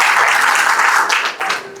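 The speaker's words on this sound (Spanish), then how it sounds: "un fuerte aplauso por esta ley que nos beneficia a todos." Audience applause at a religious freedom summit in Santander, Colombia: a dense burst of clapping that is loud at first and then thins out toward the end, with a voice briefly audible.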